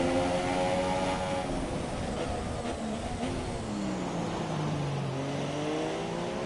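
A video game F2 race car on the Japanese Grand Prix circuit revs loudly and steadily, engine pitch rising and falling through gear changes without a break.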